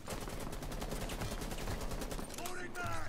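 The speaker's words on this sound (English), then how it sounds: "can you start shooting your gun now?" Rapid automatic gunfire in a video game, a dense stream of sharp shots rattling almost continuously at close range, with a few distinct louder bursts near the end.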